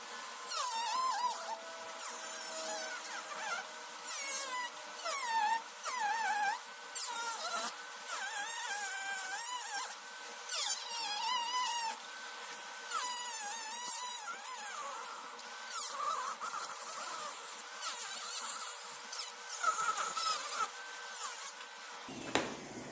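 A dental micromotor spinning a double-sided diamond disc cuts through a dental plate on a model in repeated short bursts, each a high whining buzz that rises and falls as the disc bites, close and fairly loud.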